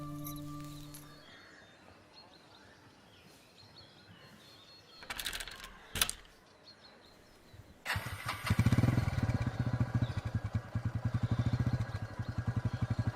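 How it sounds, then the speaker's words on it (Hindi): A motorcycle engine is started after some quiet room sounds and a couple of clunks, then idles and revs with a loud, rapid, throbbing putter that continues steadily nearby. "ये तो भैया की बाइक है ना?"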